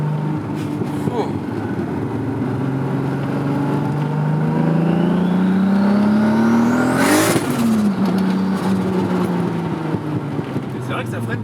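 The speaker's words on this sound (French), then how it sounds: "Mais comment ça se fait que ça fait ces bruits-là en gros quand ça passe un rapport?" Golf 2 with a swapped VR6 turbo engine revs up in a rising climb to the rev limiter on a gear change, a sharp burst at the peak before the pitch drops and settles, loud and close with people talking over it.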